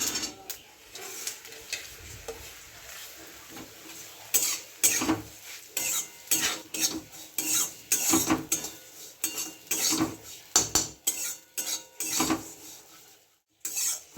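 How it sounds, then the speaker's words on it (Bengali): Flattened rice (poha) frying in a pan, stirred with a utensil that scrapes and clinks against the metal in a steady run of rhythmic strokes, close and fairly loud, with a faint sizzle underneath and no talking. "চিড়েটা ভাজা হয়ে গেছে"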